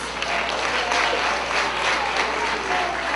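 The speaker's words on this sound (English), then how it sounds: "Round of applause." A school audience claps steadily, a continuous wash of applause at moderate loudness, with no pauses.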